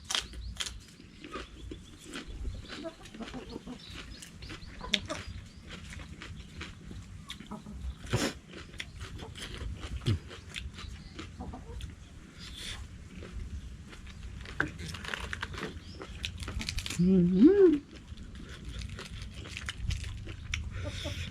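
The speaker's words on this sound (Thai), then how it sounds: "กรอบเอครับผัก แซ่บจนยุดบ่ได้ครับพี่น้อง" Crunchy fresh vegetables eaten with blanched squid give irregular close bites and chewing crunches, quiet and scattered over a long stretch, with a brief hum of a voice near the end.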